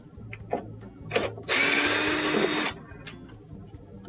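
A power screwdriver whirs for about a second while backing a number 2 Phillips screw out of a Whirlpool washer control panel, with light clicks and handling noises before and after.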